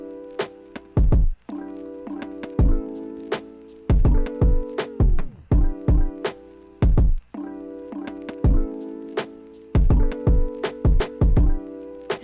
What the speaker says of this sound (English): and this is a tape stop, so it sounds like this.